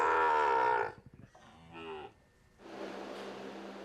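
Dairy cattle give a loud, drawn-out moo, followed by a softer lowing call and then a noisy breathy bellow, all close by with no speech.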